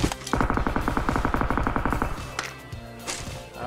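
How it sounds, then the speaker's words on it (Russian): A rapid rattling burst of sharp video-game car exhaust backfire pops, followed by a few louder separate bangs against a steady engine-like drone. "Выстрелы из глушака."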